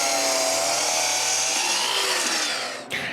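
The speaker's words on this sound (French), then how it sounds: "je dois aussi couper les 2 morceaux en angle qui vont retenir la table à sa place" A power saw cuts angled wood pieces for a small table, a loud, close, continuous whine that holds steady, then drops briefly near the end as the cut finishes.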